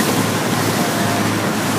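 RIB boat engines roar steadily as the hull runs over waves, a dense, loud wash of engine, water and wind noise with no voices.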